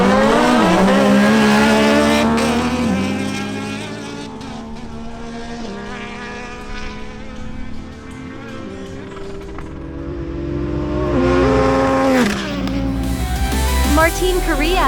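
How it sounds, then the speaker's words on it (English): Kawasaki Ninja Z1000SX and Yamaha MT-09 motorcycles racing, loud high-revving engines climbing and dropping through gear changes, near and sustained throughout, with a voice talking over them. "we have a duel between Martin Correa on his Kawasaki Ninja Z1000SX and Sergio Castillo on his Yamaha MT-09"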